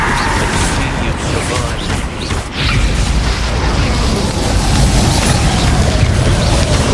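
Confringo, an explosive fire spell cast during combat in the Hogwarts Legacy video game, erupts as a loud, dense wall of booming blasts and crackling debris that barely dips for a moment before surging on, with voices faintly mixed in.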